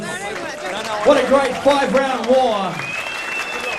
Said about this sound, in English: These 2 fighters deserve a huge round of applause.